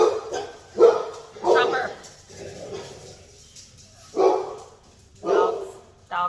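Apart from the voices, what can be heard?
dogs barking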